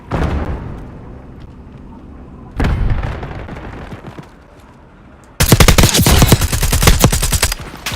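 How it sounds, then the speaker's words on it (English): Bursts of video-game gunfire from an enemy sniper, loud and dense: a sharp shot near 2.6 seconds, then a heavy rapid volley of cracks from about 5.4 seconds to the end over a rumbling background, with no talking. "Enemy sniper shooting."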